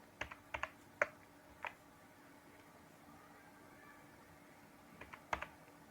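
Typing on a computer keyboard while writing basic HTML list markup, heard as sparse, isolated key clicks in small clusters with a pause in the middle, fairly close and quiet over a faint steady background hum.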